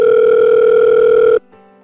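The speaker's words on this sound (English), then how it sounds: "Phones normally ring this long." Telephone ringback tone on a call line to a novelty North Pole phone, one loud steady purring ring lasting over a second and then cutting off into near silence.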